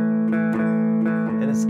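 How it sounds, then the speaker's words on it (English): Electric guitar playing a blues shuffle strum in a long-short dotted rhythm, sustained chords ringing close and clear with repeated strokes and no talking. "we're gonna do what I call a shuffle."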